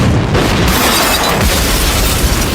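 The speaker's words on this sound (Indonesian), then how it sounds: "Pada saat bom itu meledak" A bomb explodes and destroys a barbershop in a film scene, a loud, dense roaring blast with crumbling, shattering debris that fills the whole moment without letup.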